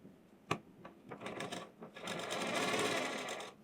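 A tailor's sewing machine stitches the seams of a designer-style blouse, starting with a sharp click and a few short bursts before settling into a steady, loud continuous whirr of rapid stitching.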